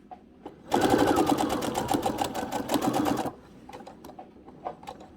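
A sewing machine stitches around the pocket of a ribbon skirt, running in one steady, fast, close burst for a few seconds before stopping, followed by a few quiet clicks and handling noises.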